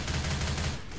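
Rapid automatic gunfire from an Uzi submachine gun in the video game Left 4 Dead 2 rattles continuously for about a second, loud and dense, then briefly tapers off.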